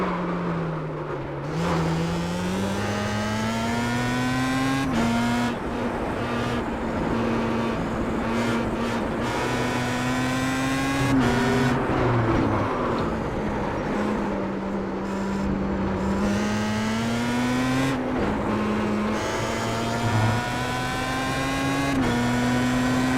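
A Star Mazda race car in the iRacing sim laps the Nürburgring GP circuit, its engine whining loud and close, rising through revs, dropping at sharp gear shifts, then climbing again.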